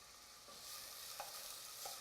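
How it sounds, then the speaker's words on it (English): Quiet, steady sizzling of minced onions frying in hot oil, with a few faint stirring scrapes. "Now I'm going to add some minced onions. That's the sizzle I'm looking for."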